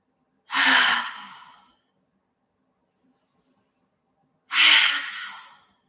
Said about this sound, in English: Take 3 deep, audible exhales here.